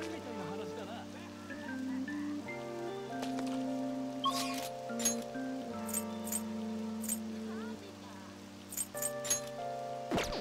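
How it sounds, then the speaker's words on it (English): Rain falling in Persona 5 Royal, a soft steady patter with occasional light clinks, set under sustained game music with no speech. "Oh, rain!"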